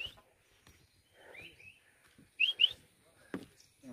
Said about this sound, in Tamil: அது குருவி அது குருவி